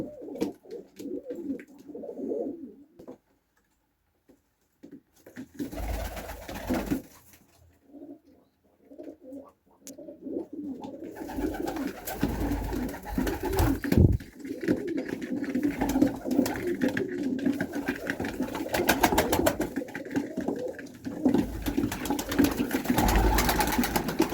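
Low, soft cooing from a Turkish pigeon repeats in a steady murmur, with a brief quiet gap early on and a denser, louder stretch of coos and rustling later.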